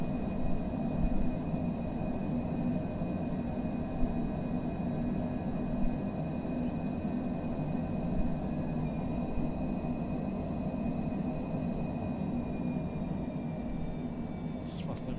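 Cessna Citation Longitude business jet climbing after takeoff, heard from inside as a steady, moderate cabin roar with a faint high whine, constant and even throughout with no talk.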